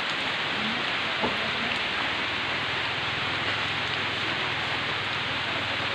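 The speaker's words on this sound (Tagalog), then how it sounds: "umulan." Steady rain pours down in a dense, even hiss, with a faint low rumble in the background.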